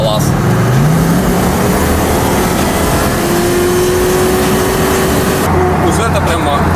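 A Toyota Mark II JZX90 fitted with a V8 turbo drives on the road with a loud, steady engine drone and one rising rev, while someone talks over it throughout.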